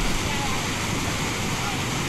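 Flooded, raging Estelí river, a continuous loud broadband roar of churning water with wind buffeting the microphone, steady throughout without a break.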